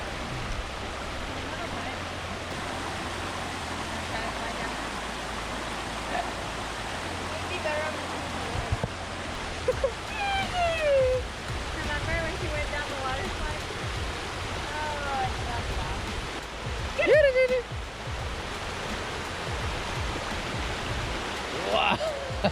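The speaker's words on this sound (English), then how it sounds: "So just another waterfall that we were able to cross off of our list here in Costa Rica" Bri Bri waterfall in Limón Province, Costa Rica, a steady broadband roar of falling water filling the background, with people talking and calling out over it and a few sharp splashes near the end.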